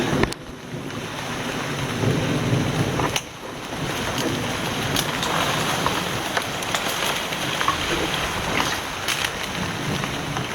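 Steady jungle rain pours down in a dense, continuous wash with gusts of wind noise buffeting close to the microphone, with no voices.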